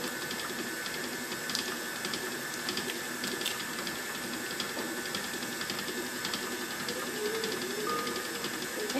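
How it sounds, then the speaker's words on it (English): An electric mixer beats chunky almond paste with butter for a cake, giving a steady whirring, rattling drone that runs evenly and close throughout with no talk. "A lot of beating of this to get the almond paste smooth in with the butter because it's kind of chunky"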